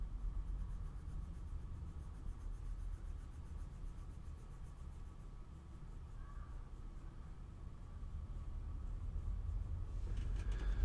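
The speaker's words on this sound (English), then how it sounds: "the noise that the pencils are making on this paper" Caran d'Ache colored pencils scratch across textured, toothy paper while layering color on a tulip drawing, a soft continuous close-up rasp with slight rhythmic strokes.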